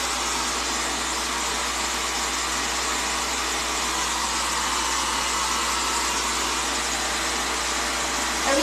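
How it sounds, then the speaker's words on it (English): A home blow dryer runs on a medium, fairly hot setting with a steady, loud roar of motor and rushing air that holds unchanged for nearly nine seconds, with no voices. "This is my like home blow dryer."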